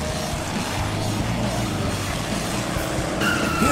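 Monster trucks roar along with loud engine rumble and squealing, skidding tires, a dense continuous mix that swells slightly near the end.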